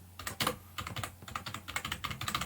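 Rapid clicking of keys on a computer keyboard, close and clear, with short bursts of keystrokes following one another in quick succession.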